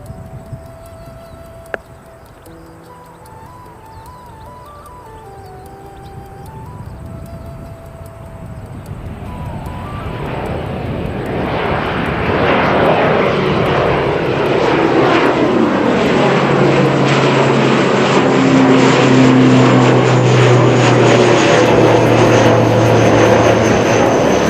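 An airplane passes at Christchurch Airport, its engine roar growing from faint and distant to loud and close, then holding as a broad, steady rumble.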